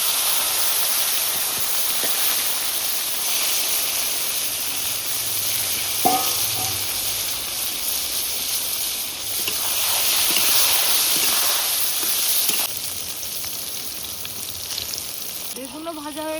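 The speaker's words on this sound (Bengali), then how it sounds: "এই মাছের তেলে বেগুনগুলো ভেজে নিচ্ছি।" Eggplant pieces fry in fish oil over a village clay stove, a steady close sizzle and hiss running the whole time, with brief stirring clatter and a short scrape or voice-like sound near the end.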